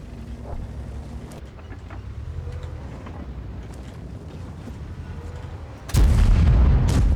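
A tank cannon fires in a tank video game, a sudden loud, heavy boom near the end that breaks through a low, creaking mechanical rumble which fills the seconds before it.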